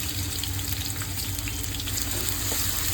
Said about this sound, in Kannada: ಒಂದು ಈರುಳ್ಳಿ ಇಟ್ಕೊಂಡಿದ್ದೀನಿ ಅದನ್ನು ಎಣ್ಣೆಗೆ ಹಾಕೊಂಡಿದ್ದೀನಿ ಚೆನ್ನಾಗಿ ಸ್ವಲ್ಪ ಫ್ರೈ ಮಾಡ್ಕೊಳ್ಳೋಣ